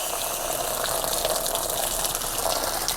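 Water gushes out steadily as an RV water heater tank is drained, a continuous loud rushing, splashing flow with no talk.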